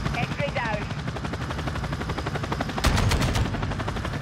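Helicopter in the video game Modern Warfare II, a steady rotor thrum running under loud automatic gunfire and battle noise, with a sharp volley of shots partway through and voices faintly present.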